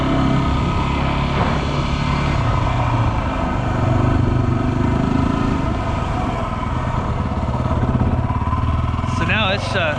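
A Yamaha WR250R motorcycle engine drones steadily and loudly throughout, with slight rises in pitch as the rider runs through the gears; speech is mixed in.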